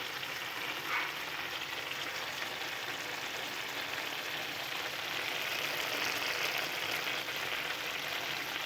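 Pork and banana heart sizzle and bubble uncovered in a pan as the liquid cooks down, a dense, steady frying hiss that holds throughout without pause.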